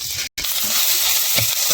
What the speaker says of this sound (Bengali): এখন ভালো করে মিশিয়ে ভেজে নিতে হবে।